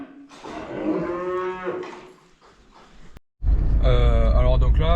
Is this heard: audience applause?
no